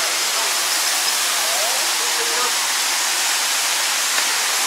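Steady, dense rushing of a waterfall near Minca, Santa Marta, Colombia, a constant hiss of cascading spray with no pauses, heard fairly close.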